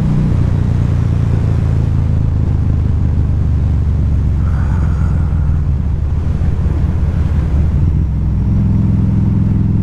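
Riding a 2012 Harley-Davidson V-Rod Muscle with its 5-speed transmission on a commute: a loud, continuous low engine rumble mixed with heavy wind buffeting at the mic, steady throughout with no speech.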